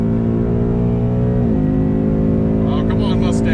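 Corvette C7 and Mustang GT in a 60-130 mph roll race, a deep, loud, steady engine drone with strong harmonics, pitch dipping briefly as a gear shifts before resuming its climb, ending with faint higher noises.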